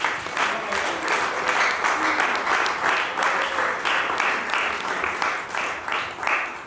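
A church seminary congregation claps and cheers to acclaim the Lord, a sustained, fairly loud wave of applause from a large crowd with scattered shouts mixed in.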